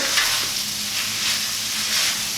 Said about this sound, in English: In goes our onions. I'm going to give this a stir.